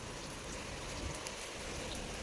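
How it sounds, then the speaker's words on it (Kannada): Rain falls as a soft, even hiss throughout, faint and steady with no voices. "ಮಳೆ ನೋಡ್ರಿ ಎಷ್ಟು ಮಸ್ತ್ ಕಟ್ಟಾಗತ್ತಿ."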